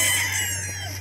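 A Pumpkin Kelso gamefowl rooster gives a short, loud crow-like call with clucking tones, sounding close against a steady low hum.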